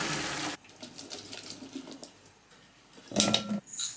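Water pours off blanched potatoes into a sink as they drain, a near, splashing gush at the start, then softer trickling and a second brief pour near the end.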